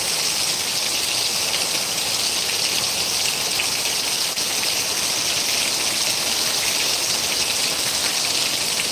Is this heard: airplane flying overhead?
no